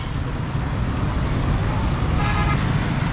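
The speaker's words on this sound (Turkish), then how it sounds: "Tam istasyona gelmişiz biz ya. Otobüs istasyonu." Busy traffic at a bus station in Pakistan makes a steady, loud roadway rumble, with engines idling and a brief horn toot partway through.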